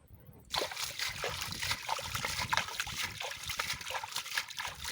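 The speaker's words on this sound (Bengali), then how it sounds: "পানি তো এক সাইডে আবার গলতেছে, এই জন্য পানি বাড়তেছে।" Water trickles and sloshes steadily into a small drain where fish are being caught by hand, a faint continuous wash beginning after a short quiet opening.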